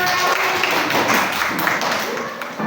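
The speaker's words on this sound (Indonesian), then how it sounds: "Beri tepuk tangan untuk kelompoknya." Classroom applause for a student group after a physics presentation, a dense steady patter of many hands clapping with voices mixed in, tapering slightly toward the end.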